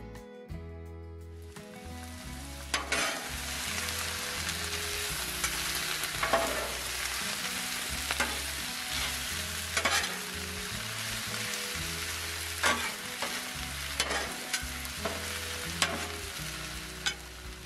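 Chopped onion and cabbage fry on a flat Blackstone griddle with a steady, dense sizzle that holds for the whole stretch, broken by occasional scraping stirs and a low hum underneath.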